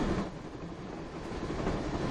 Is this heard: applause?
no